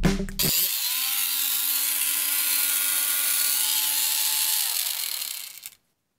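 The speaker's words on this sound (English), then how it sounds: "We're gonna fire this up and cut these bolt heads off that are just a little bit long on the fans." A Milwaukee power tool cuts off overlong bolt heads on fans, one loud continuous bright grinding whine that holds steady for about five seconds, then spins down and stops.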